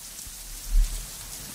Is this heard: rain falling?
yes